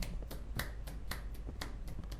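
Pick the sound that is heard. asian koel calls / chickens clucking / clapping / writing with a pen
clapping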